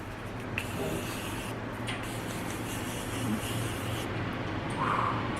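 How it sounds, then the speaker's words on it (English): Makeup setting spray misted onto a face gives a soft, close hiss over a low background hum, with faint brief bursts and no speech. "Just gonna add a little bit of the setting spray."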